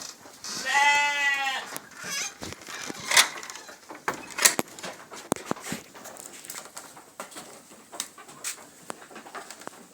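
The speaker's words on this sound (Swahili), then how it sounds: "Hapa tena ukiangalia unaweza ona kuna kondoo hapa ambao wametengwa." On a farm keeping sheep, cattle and chickens, a single sheep lets out one loud, wavering bleat close by near the start, followed by faint bird chirps and scattered sharp clicks and knocks.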